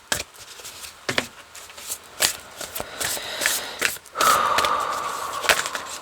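Tarot cards are shuffled by hand in quick bursts of papery riffles and taps, close and moderately loud, ending in a longer continuous shuffle.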